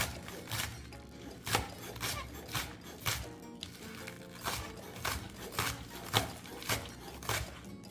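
Rough chopping of green onion with a knife on a cutting board, a steady series of fairly loud close-up blade knocks about two per second, with no talking.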